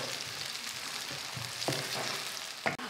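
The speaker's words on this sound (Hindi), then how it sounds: "इसमें डाल देंगे हाफ कप ऑयल और इसमें डालेंगे प्याजों को हम हल्का सा फ्राई करेंगे" Onions fry in half a cup of oil in a pot, a steady close sizzle and crackle with occasional clinks and scrapes of stirring.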